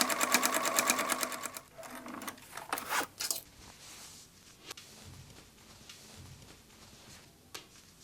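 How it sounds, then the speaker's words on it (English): A serger sewing machine races along a dress waistband seam, loud, fast, evenly pulsing stitching for under two seconds, then stopping and restarting in short uneven bursts mixed with faint rustles of fabric and clicks, all close by. "stitch the bodice to the skirt along the waistline, and serge the waistband seam allowance."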